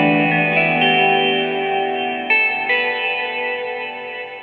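Sustained chords ring out through a Strymon reverb pedal with modulation, a shimmering, spacey wash with a long tail. Two fresh strums near the middle swell the sound before it slowly fades.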